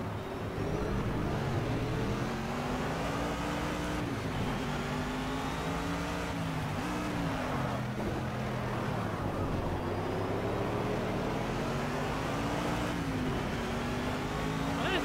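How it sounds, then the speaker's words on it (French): A race car engine in Project CARS roars steadily at high revs at Indianapolis, pitch rising and falling with gear changes, loud and continuous without a break. "on termine sans le casque pour vraiment avoir le son de la voiture"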